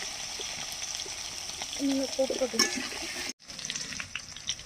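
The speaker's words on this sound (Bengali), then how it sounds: "এবার আলুগুলোকে একটু ভেজে নিচ্ছি, নুন হলুদ দিয়ে ভেজে নেব।" Potatoes frying with salt and turmeric in a pan give a steady close sizzle, with a stirring clatter and a short break near the end; a voice speaks briefly over the frying.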